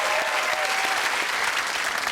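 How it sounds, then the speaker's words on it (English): A studio audience on a comedy talk show gives dense, steady applause for an Invictus Games medal winner, loud and continuous throughout without any voices over it. "That's worth a round of applause."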